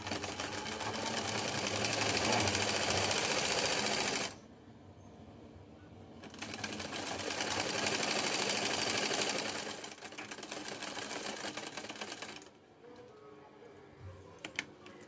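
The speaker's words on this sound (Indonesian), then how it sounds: "Lalu ini kita jahit." A sewing machine stitches a 3D cloth face mask with a fast, steady, rattling hum. It runs in two bursts with a short pause between them, then goes quiet except for faint handling of the fabric.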